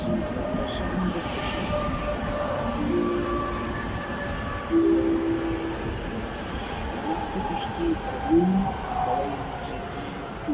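A České dráhy S2 passenger train rolls into the platform at Lysá nad Labem, a steady rumbling rail noise with faint wheel squeals and tonal whines, heard continuously and moderately loud with station ambience.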